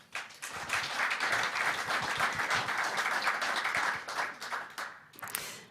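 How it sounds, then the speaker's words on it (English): Sustained applause from a live panel audience, dense clapping holding steady for several seconds before tapering off near the end. "Please join me in welcoming them with a round of applause."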